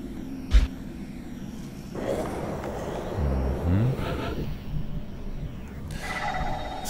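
Floater alien from the XCOM Long War video game (Enemy Within): a low, rumbling hover-like whoosh with a brief rising sweep midway, moderately loud and steady, with no talking.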